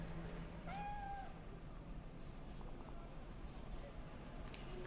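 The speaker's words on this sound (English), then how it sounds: "Kitty cat." A single short meow from a cat in the video game Cyberpunk 2077, faint against a low ambient game background hum.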